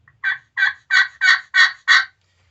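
A steady run of six evenly spaced yelps from a glass turkey call, loud and close, each a short raspy note in a regular rhythm.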